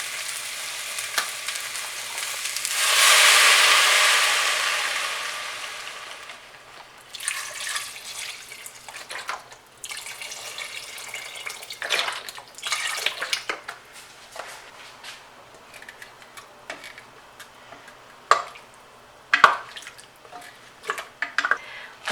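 Vegetable broth poured into a hot pot over butternut squash, a loud rush of liquid and hiss at first, then fading into quieter sizzling, drips and stirring clinks nearby.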